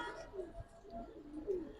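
Giribaz racing pigeons in a loft, including a jeera-necked bird, give soft, faint low coos a few times against quiet background noise.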